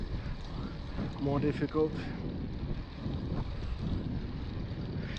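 Wind buffets a cyclist pedalling straight into a headwind, a constant low rumbling roar of gusts over the microphone while a person speaks briefly over it.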